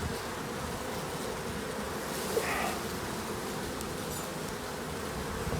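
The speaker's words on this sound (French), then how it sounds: "Je tire doucement parce qu'il y a beaucoup d'abeilles." Honey bees swarm around an opened hive in spring, making a soft, steady, continuous buzz with a faint rustle now and then.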